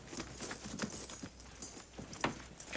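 Several horses of a cavalry detail clip-clop as the soldiers halt and dismount in a Western ranch setting, with irregular hoof strikes on hard ground at moderate distance, loud against a steady outdoor background.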